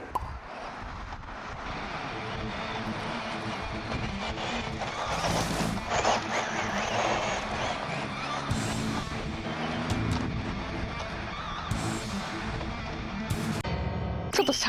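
Tamiya DT-04 RC buggy running on flat dirt, a whining electric motor with scrabbling tires and gravel, moderately loud and rising and falling as it passes, with occasional sharp bursts of noise.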